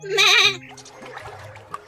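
A cartoon goat bleats once, loud and close, with a wavering, quavering cry about half a second long, followed by quieter background sounds and faint splashy noises.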